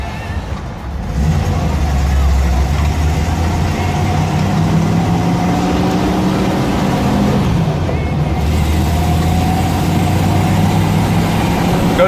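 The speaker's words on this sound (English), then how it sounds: "Motor runs perfect." A 1983 Jeep CJ8 Scrambler engine idles steadily close by, a loud, even low rumble that runs uninterrupted throughout with a faint pitch shift midway.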